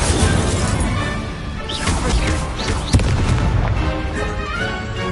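Incendio fire spell cast in Hogwarts Legacy combat, a dense stream of loud crashing, booming impacts and whooshes layered over game music, one sharper hit standing out near the middle.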